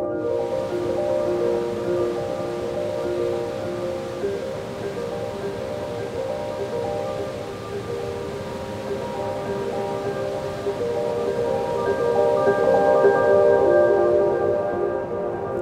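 Cascading waterfalls in the Lovatnet valley in Norway give a steady, broad rush of falling water that holds evenly for the whole stretch, with no voices over it.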